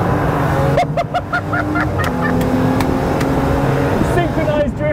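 An engine-swapped BMW M135i race car drifts alongside another car, with a steady loud engine roar and tyre noise. Voices talk over the top throughout.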